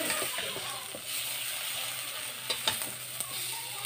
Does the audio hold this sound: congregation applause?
no